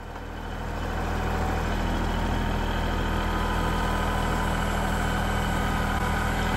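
A tractor engine runs steadily in a firewood yard, a loud, continuous low rumble that builds up in the first second and then holds even, with no talking.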